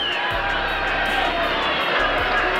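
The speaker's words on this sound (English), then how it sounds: "Crowd starts to react now as they catch their first sight of the champion." Arena crowd at a heavyweight championship boxing fight, Larry Holmes against Trevor Berbick, roaring in a steady, dense wash of cheering as the champion appears, with a few low thumps underneath.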